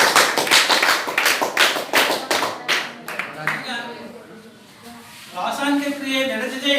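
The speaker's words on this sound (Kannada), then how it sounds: "Very good, very good. ಚಪ್ಪಾಳೆ." A classroom of students claps for a classmate who answered correctly, a burst of dense, overlapping hand claps over the first few seconds that thins out, followed by voices talking.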